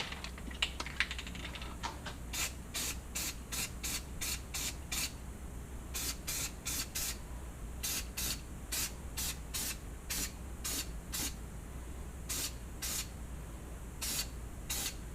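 Repeated short hiss bursts of an aerosol spray can laying a third coat of white paint on Oakley Wind Jacket 2.0 goggles, about two dozen quick close puffs in irregular clusters over a low steady hum.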